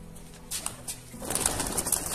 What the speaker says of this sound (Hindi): ये एक नया कबूतर आया हुआ है